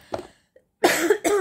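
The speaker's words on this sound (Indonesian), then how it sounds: "Aku tuh sebenarnya lagi batuk." A person coughs close to the microphone: a small cough, a pause, then two louder rough coughs in quick succession.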